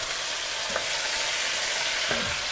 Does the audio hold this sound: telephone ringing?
no